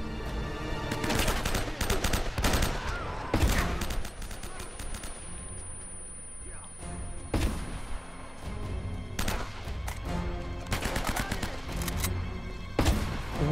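Gunfire in the video game Uncharted: Drake's Fortune comes in loud, dense automatic bursts separated by short quieter lulls, repeating several times.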